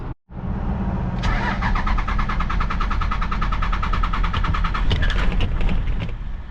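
A 12 valve Cummins diesel truck engine cranks with the starter grinding, then catches and settles into a loud, steady idle close by, with a rattling roar that keeps going.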